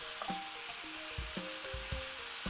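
Onions cook in a pan on a cooking show, a faint steady sizzle with soft clinks and low thumps, and tonal whistle-like lines running through it.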